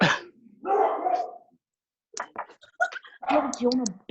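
A dog barks repeatedly at close range, with a burst of sharp woofs and then a rapid run of yips and barks.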